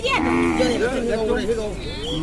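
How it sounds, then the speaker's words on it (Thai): Cattle at a livestock market low loudly and close by, one drawn-out moo with other animals and faint background voices underneath. "บรรยากาศสดๆในสนามครับดู การซื้อการขายวัวเนี่ยมันเป็นอย่างนี้แหละครับ"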